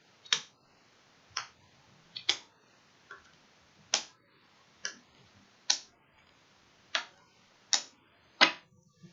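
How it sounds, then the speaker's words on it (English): Ten sharp, separate slaps of tarot cards laid onto a surface, spaced about a second apart, close and crisp in an otherwise quiet room. "we're going to lay down our first 6 cards."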